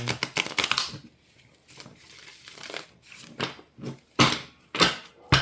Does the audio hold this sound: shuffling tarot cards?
yes